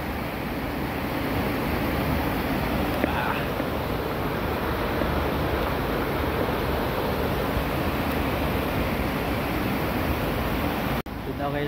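A stream flowing in an outdoor rural spot, a constant loud broadband rush of water that stays steady and close throughout, ending with a brief dropout.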